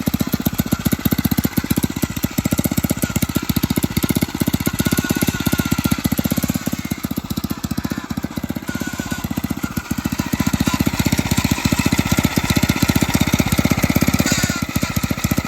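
A Phatmoto gas-powered motorized bicycle engine runs close and loud, a fast rattling two-stroke buzz with steady pulsing that holds throughout, without speech.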